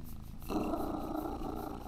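Cat purring close by, a soft rhythmic rumbling purr that starts up suddenly and continues steadily, alone with no talk.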